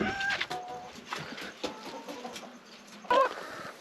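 Chickens at a farm stay in Mexico cluck and squawk close by in a busy, overlapping chorus, with one louder call near the end over constant rustling.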